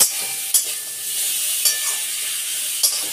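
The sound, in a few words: fish curry ingredients being sautéed in a pan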